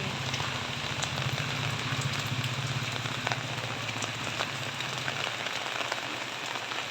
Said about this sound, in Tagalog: malakas na naman ang ulan sa bubong ng bahay